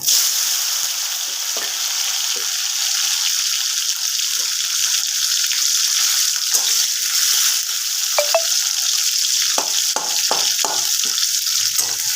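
Chopped tomatoes go into hot oil with whole cumin seeds for a pointed gourd (potol) curry, giving a continuous loud sizzle with scattered crackles and a few soft stirring knocks.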